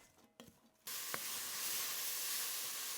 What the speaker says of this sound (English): I'm just going to stir that and fry it off until it all sort of gets soft.